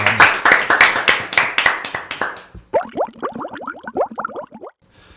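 A small group of people clap briskly at the close of an interview, with quick, close claps for about two and a half seconds before the clapping stops and other faint sounds follow.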